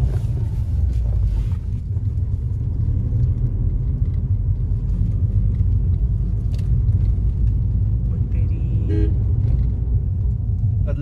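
Inside a moving car, the engine keeps up a constant low rumble that fills the whole stretch, with faint road noise and a few short horn toots from outside near the end.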